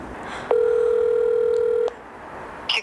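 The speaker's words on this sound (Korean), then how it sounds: "준수한테 해볼게요." A telephone number being dialed gives one sustained dual-tone beep lasting over a second, followed by a brief pause and a faint high chirp at the end, heard alone over light background hiss.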